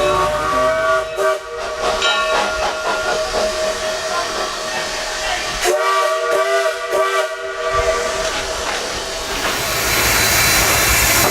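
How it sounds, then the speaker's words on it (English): A steam locomotive's whistle sounds in sustained harmonic blasts over steady hissing steam, loud and close, with the rumble of a train throughout. "Jay wasn't going to let me leave Western New England without a ride on a train"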